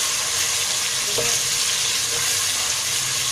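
Spices and onions fry together for kadhi, making a loud, even sizzle that holds steady throughout, with a faint clink of stirring near the middle and no one talking.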